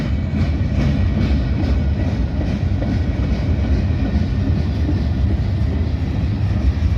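Big freight cars, gondolas and hoppers among them, rolling past close by in a steady, loud rumble with faint rhythmic clicking of wheels over rail joints throughout.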